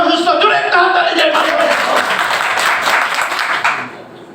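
Audience claps together at a health talk, with a dense, loud burst of applause that starts over a voice and then fades toward the end.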